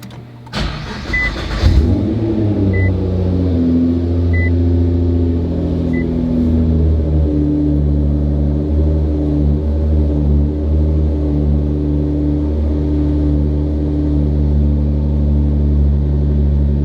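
A Nissan R35 GT-R engine cranks and fires up, then settles into a steady, rumbling idle that continues to the end, with a few faint electronic beeps just after startup.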